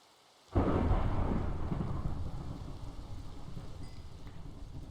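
Thunder strike in Minecraft: after a short quiet moment a sudden loud crack breaks into a rolling rumble that slowly fades over steady rain.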